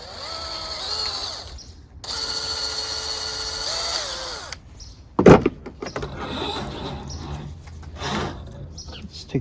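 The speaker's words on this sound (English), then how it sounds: "Usually you should drill it with a smaller thing" A power drill bores a hole into a part of a free Toro Recycler Personal Pace self-propelled lawn mower, whining loudly in two long runs, followed by a sharp clunk and then quieter scraping and rattling.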